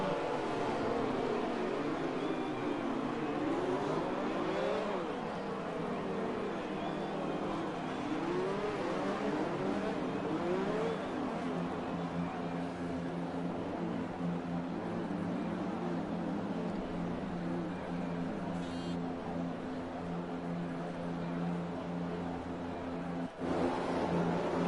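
F1 2020 race cars on PS4 at the Australian Grand Prix rev and whine on the grid in a steady, dense engine drone, several cars overlapping, loud and continuous with rising and falling pitch sweeps.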